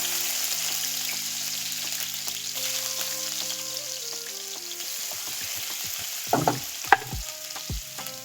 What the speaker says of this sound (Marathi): सर्वात पहिला आपण राई टाकूया, त्यानंतर जिरे, याला छान तडका येऊ देऊया।